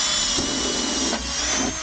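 A power drill bores steadily through a metal bend segment, a loud continuous whirring grind with a short dip in pitch midway, with no voice over it.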